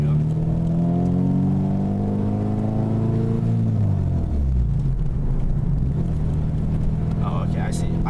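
Manual stick shift car pulling away as the clutch is let out, a loud engine drone that rises in pitch and then drops and bogs as the clutch bites, with a person talking inside the cabin.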